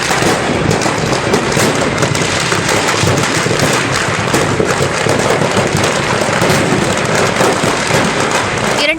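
Rapid, dense crackling bursts of firecrackers explode continuously, loud and chaotic, like a long string going off without pause.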